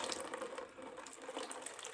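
Water pours down a sluice onto a simple homemade water wheel, a steady, close splashing and gushing that runs continuously with slight surges.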